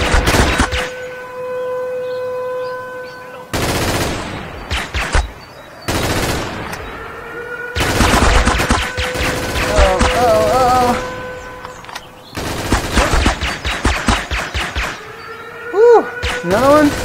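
Loud, close bursts of rapid gunfire in the VR shooter Last Sniper VR alternate with brief pauses. A voice talks between the volleys, and electronic game tones sound underneath.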